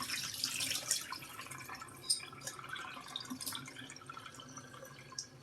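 Running tap water splashes and trickles over sunflower seeds being rinsed in a sink, a steady faint hiss with small drips and splatters, no voices.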